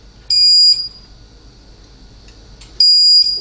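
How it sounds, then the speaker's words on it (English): A meat thermometer sounds two sharp high electronic beep bursts, each about half a second long with a quiet gap between, loud and close in a kitchen. "Sorry for the beep from the meat thermometer."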